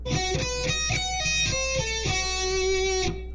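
Rapid electric guitar run in a harmonic minor, a lick with notes picked quickly in dense bursts with bright sustained tones, played alone and close, steady and fairly loud throughout.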